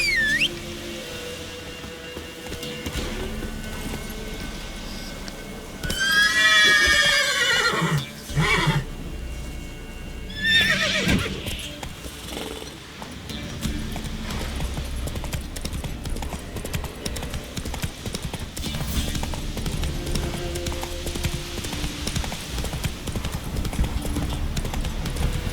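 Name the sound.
horse Roach neighing and galloping in video game The Witcher 3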